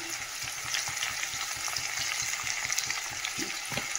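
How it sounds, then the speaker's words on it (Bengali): Vegetables frying in a pan with salt and turmeric produce a dense, steady sizzle with light stirring scrapes, close and fairly loud throughout. "এই যে নুন হলুদ দিয়ে তো একটু কষিয়ে নিলাম"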